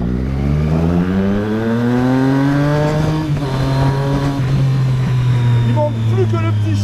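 A motorcycle, not an MT-09, revs hard and pulls through the gears, the engine note climbing in steady harmonic sweeps with a brief upshift dip midway; a rider talks over the loud, close engine.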